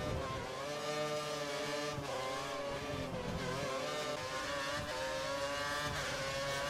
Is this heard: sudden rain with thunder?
no